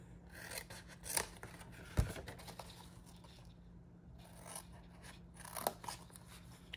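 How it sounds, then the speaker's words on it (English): Paper ends being snipped off with scissors while making a bag-of-bones card or box, giving a few soft, close cutting and rustling sounds spread irregularly through a quiet background. "I'm going to go ahead and cut those off."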